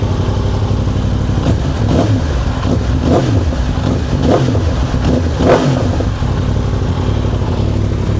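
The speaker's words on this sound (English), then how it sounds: "So the engine has run for a while, so it's got a little bit of heat inside the engine. So we'll give it some revs." A rebuilt Yamaha R1 motorcycle engine, warmed up after running a while, is revved repeatedly, loud and close, rising and falling in several rapid throttle blips over a constant idle drone.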